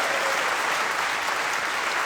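Dense, loud audience applause at a live Vestige business event in India, a sustained wash of many hands clapping at once without a pause.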